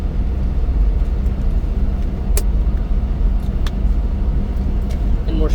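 A Suzuki Carry mini truck with a lift kit labours up a grade at around 45 km/h, its engine a loud, steady low drone with road rumble, recorded close from inside the cab.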